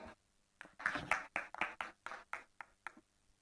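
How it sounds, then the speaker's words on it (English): Symposium audience giving a round of applause, a short burst of about a dozen distinct claps from a small group, close and fairly quiet, fading out after three seconds. "Give a big round of applause."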